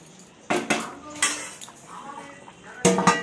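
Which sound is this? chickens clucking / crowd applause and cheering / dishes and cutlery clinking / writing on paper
dishes and cutlery clinking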